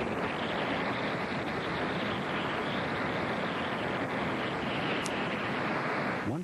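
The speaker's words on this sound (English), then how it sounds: "a rapid rise in water level that pushes onshore" Steady rushing water and surf with wind noise as a hurricane storm surge floods onshore, a constant loud wash of churning water throughout.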